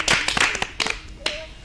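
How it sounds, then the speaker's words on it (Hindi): A small audience of listeners at a children's school program claps for a student's poem, a handful of sparse, separate claps close by, quickly trailing off into a few last isolated hand claps. "इनके लिए जोरदार तालियां तो बनती हैं"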